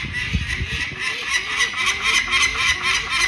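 A Harris hawk calls for food in a run of repeated harsh, nasal cries, fairly loud and close, following each other steadily.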